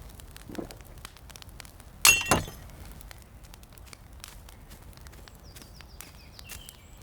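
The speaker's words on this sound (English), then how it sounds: "I heard glass breaking" A glass shatters in a fantasy roleplay setting: one sharp, bright crash followed by a quick second burst of tinkling shards, close and loud against an otherwise quiet room.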